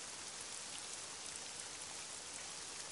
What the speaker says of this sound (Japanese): あー、雨ですよ、雨。